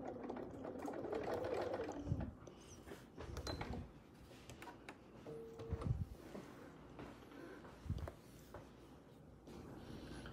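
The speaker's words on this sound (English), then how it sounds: "This is my Bernina 590, and I am sewing with my BSR table." A Bernina 590 sewing machine on a BSR stitch-regulator table runs a free-motion quilting design, its motor whirring and humming in uneven bursts, with brief pauses and a few handling knocks near the machine.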